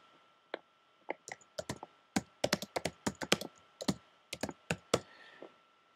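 Someone types on a computer keyboard in irregular bursts of crisp, close key clicks, some quick runs and some single taps, with no voice over it.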